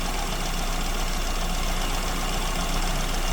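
A car engine fitted with an SU carburetor idles steadily at around 900 RPM during mixture tuning, a constant, close, fairly loud running hum with no talking over it.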